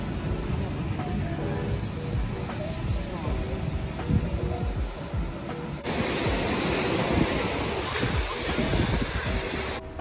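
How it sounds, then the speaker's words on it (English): Ocean surf breaking on a beach near Cancun, a steady broad wash of waves with a louder surge partway through, with people talking and exclaiming over it. "Oh, look at those waves."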